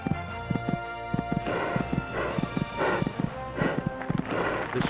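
Horse hooves from the Equestrian Showcase PlayStation game thud in a quick, steady galloping rhythm of close, crisp clip-clops, carrying on for several seconds with no talk over them.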